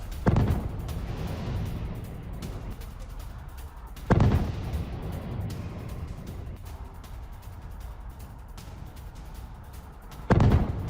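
Explosions and air defense fire over Kyiv as a Patriot PAC-3 interceptor engages a cruise missile: three heavy booms spaced several seconds apart, each rising sharply out of a continuous low rumble, with no voices.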